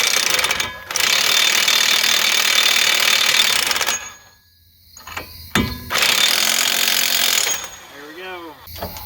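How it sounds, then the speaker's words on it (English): Impact wrench snugging a nut onto a new wheel bearing on a 2011 Chevy HHR, a loud sustained mechanical rattling burst that cuts off, then a short pause and a second long burst, ending with a brief spoken remark. "Now this I'm just using the impact to get it on there snug"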